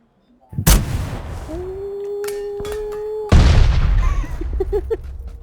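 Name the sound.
gunfire in the video game PUBG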